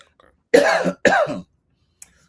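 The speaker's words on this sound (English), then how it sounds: "Excuse me for a second, I had a cough." A person coughs twice in quick succession, close and loud, then goes silent.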